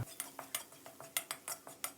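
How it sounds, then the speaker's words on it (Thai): Rapid metallic scraping and clinking of a spatula against a wok as minced garlic is stir-fried in hot oil, about a dozen quick, even strokes close by, with no voices. "ใส่กระเทียมสับลงไป 1 ช้อนโต๊ะผัดให้แตกกลิ่นหอมเลยครับ"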